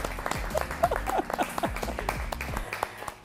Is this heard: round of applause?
yes